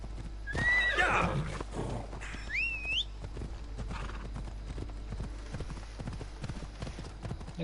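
A horse whinnies loudly, then a second high neigh follows, over the steady clip-clop of hooves; sounds like a game soundtrack from Assassin's Creed Odyssey, no talking.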